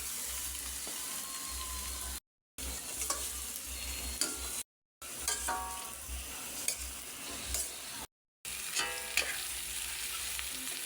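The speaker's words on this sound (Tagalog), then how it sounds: "Igisa-gisa lang natin yung ating hotdog hanggang sa mag-brown maluto" A hotdog sautés in a pan until browned, giving a continuous close frying sizzle with small crackles and spatula stirring, broken by a few brief silent gaps.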